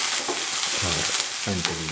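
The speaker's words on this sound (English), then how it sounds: "Saute for 2 to 3 minutes" Green chili, spring onions and cauliflower sautéing in a pan, a steady close sizzle with brief stirring scrapes, a voice speaking briefly over the frying.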